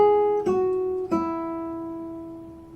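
A guitar string plucked twice with a straight wrist at the same pitch, warm and round, each note sustaining and the last one ringing out gradually.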